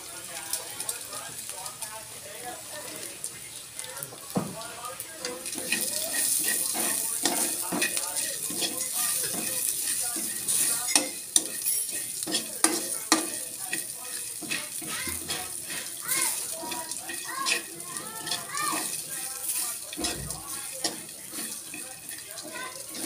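Annatto seeds sizzle and crackle as they fry in oil for making chicken oil in a small home kitchen, a steady bright hiss with scattered pops and occasional utensil clinks, accompanied by some speech.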